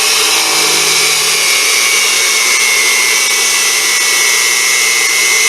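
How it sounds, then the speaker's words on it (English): Unimat SL1000 mini lathe turning titanium with a 10-degree rounded tool, giving a loud, continuous high whine with a steady pitch throughout. "this 10-degree rounded tool is imparting a mirror-like finish on titanium"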